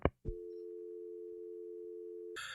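A telephone busy signal drones as a steady tone after the caller hangs up, preceded by a couple of brief clicks and cut off at the end by a burst of noise.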